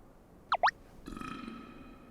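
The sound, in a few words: burp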